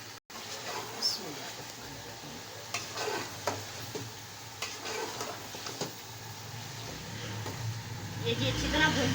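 Biryani masala fries softly in a pot while being stirred, with a faint steady sizzle and occasional light taps of the spoon against the pan.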